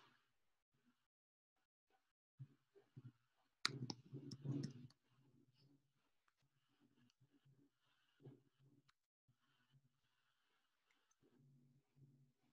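A computer mouse clicks faintly in a quiet room: a few scattered single clicks, then a short cluster of quick clicks, and more sparse clicks spread out over the remaining seconds.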